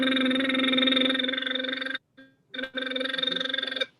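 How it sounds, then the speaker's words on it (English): A voice teacher performs a lip trill vocal exercise, a steady buzzing hum with a clear pitch and fluttering lips, held for about two seconds, a short break, then resumed for over a second, close and alone. "very quick exercise that's called lip trills"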